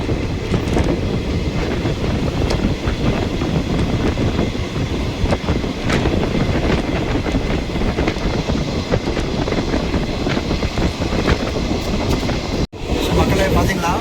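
Tirupati–Vasco express hauled by a diesel locomotive running near Guntakal West, a steady loud rumble and clatter of rolling stock and wind filling the whole stretch, with a brief dropout near the end.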